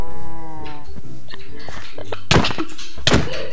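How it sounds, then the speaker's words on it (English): A cow in a video game lets out a loud drawn-out moo at the start, followed by several dull thunks and clatters, with a person talking through the rest. "Alright, I got wheat for all the cows."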